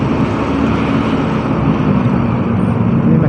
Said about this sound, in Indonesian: Ini masih macet nih guys